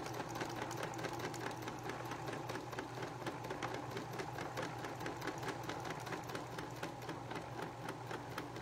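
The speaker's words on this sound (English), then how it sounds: "sew right on our traced line here" A sewing machine stitches fabric along a traced line for a primitive doll body, its fast, even mechanical chatter running steadily and close throughout with no talk.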